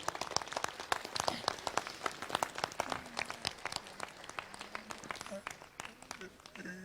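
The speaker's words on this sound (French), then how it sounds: "chers parents, on peut vous applaudir" Scattered applause for parents at a children's municipal council ceremony, with irregular claps rising and falling across the clip, fairly faint, and voices talking over the clapping toward the end.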